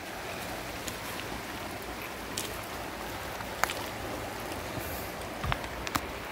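Cold, fast-flowing river heard while wading across barefoot, a steady rushing wash of water with occasional splashes and small knocks close by.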